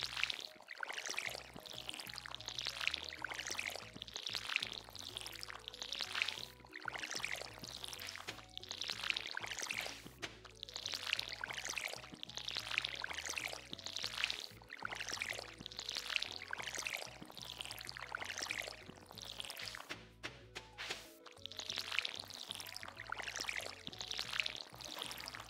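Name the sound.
watering crops in video game Stardew Valley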